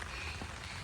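Monsoon rain falls at the deer park in Nara in a steady, even hiss for a brief moment, with no voices.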